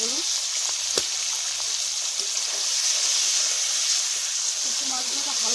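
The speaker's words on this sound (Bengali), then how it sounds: "এখন আমি শুটকি মাছগুলো ভেজে নিব" Dried fish fry in hot mustard oil in a kadai, giving a steady, loud, close sizzle that holds evenly throughout with a few soft pops.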